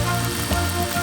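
Toy dentist drill on a Mr. Mouth toy buzzing in a close, steady mechanical whir with a gritty ratcheting texture and a slight pitch wobble, heard alone.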